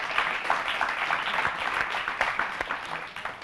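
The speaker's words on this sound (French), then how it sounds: "je voudrais très sincèrement que vous les applaudissiez, s'il vous plaît, dans l'ensemble" A crowd applauds steadily, dense clapping filling the room at an even level without a break.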